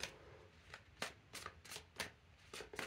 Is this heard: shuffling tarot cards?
yes